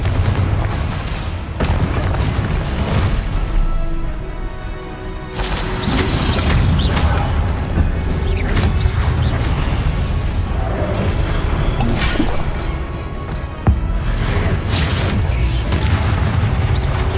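Spell blasts and booming explosions from combat in the video game Hogwarts Legacy, loud and repeated through the whole stretch with sharp crashes, layered over a dense game soundscape and speech.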